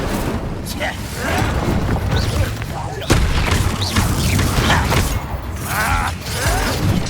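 The Incendio fire spell cast in combat in Hogwarts Legacy, a loud whooshing burst with a sharp crack midway amid clanking mechanical effects and creaks, with spoken voices over the noise.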